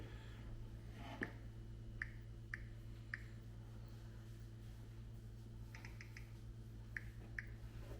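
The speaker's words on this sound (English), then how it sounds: "It wants the PIN. I'm going to enter that." Several soft, separate taps as a 5-digit PIN is entered on a smart door lock keypad, spaced irregularly over a steady low hum in a quiet room.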